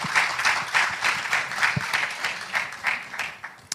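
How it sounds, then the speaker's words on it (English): A panel-discussion audience at a business event applauds: steady, dense clapping from a moderate-sized crowd that pulses in waves for the full few seconds, with no voices over it. "I believe that deserves a round of applause."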